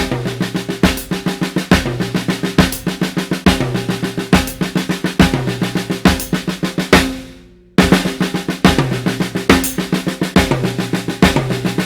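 A paradiddle-diddle drum groove played solo, starting on the snare, with rapid sticking on the snare over a steady kick and cymbal pattern. It cuts out briefly near the end, then resumes at the same tempo.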